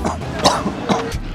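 A person coughs in a few short, harsh bursts, close and fairly loud, with a bit of throat clearing mixed in and no talk around it.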